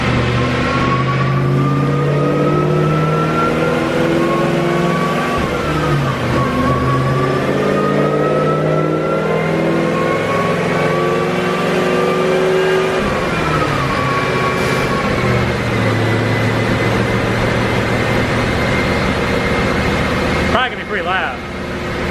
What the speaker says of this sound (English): we're about to do the first pull with the car on E-85